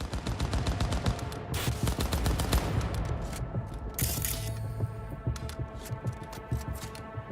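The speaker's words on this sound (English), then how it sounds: "What are you guys shooting at?" Rapid gunfire from the Cyberpunk 2077 video game, dense bursts of automatic shots and single cracks crowding the first few seconds, then scattered sharper shots over a steady low hum, loud and without talk.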